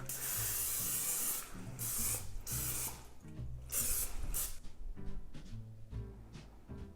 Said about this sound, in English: So this is just extra virgin olive oil spray.